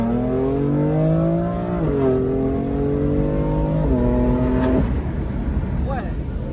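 A Stage 2, 550-horsepower BMW M4 F82 engine revs hard through rising gear changes on a short straight, its loud droning pitch climbing and dropping between shifts, close and continuous.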